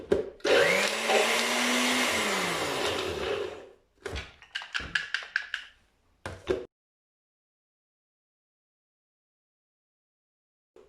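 NutriBlend blender whirring through cashew and banana mousse, a loud continuous motor roar for about four seconds, then a run of short pulsing bursts, followed by silence.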